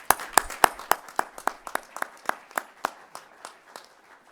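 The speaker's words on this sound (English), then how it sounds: "please join me in giving a round of applause" A small group claps at the NASA Headquarters Honor Awards ceremony, the sparse claps falling in a fairly regular rhythm and slowly dying away.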